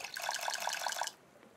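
Water being sipped in the survival game Raft, a short run of rhythmic liquid gulps and splashes lasting about a second, then quiet.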